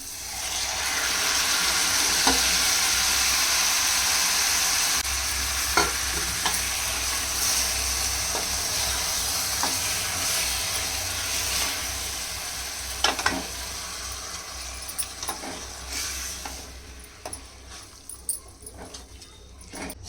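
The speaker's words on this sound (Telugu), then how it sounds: "నెయ్యిలో ఆనియన్ మంచిగా ఫ్రై అయ్యాయి. ఇప్పుడు ఇందులో మటన్ వేసుకోవాలి." Onions fry loudly in ghee for mutton pulao, a steady close sizzle that holds strong, then gives way to scraping stirs and clinks as it settles and thins toward the end.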